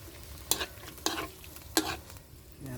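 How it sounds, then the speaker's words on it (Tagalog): Spoon stirring pork adobo with vinegar in a hot pan, three distinct scraping strokes over a low steady sizzle, close and fairly quiet. "Haluin natin para yung suka at tuyo pasok sa laman ng karne."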